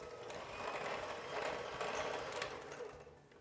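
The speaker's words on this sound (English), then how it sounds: "we're going to stir everything together with our mixer until it is well combined" A quiet, steady mechanical whir from an electric mixer beating a butter mixture for cookies-and-cream cookie dough continues evenly throughout, fairly faint and without speech.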